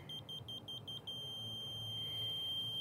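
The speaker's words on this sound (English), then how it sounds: "When it's a solid beep, instead of a random beep or a intermittent beep," A construction laser receiver at a helical pile site gives a quick run of short high beeps that merge into one steady solid tone as it reaches target height, loud and close with no talk.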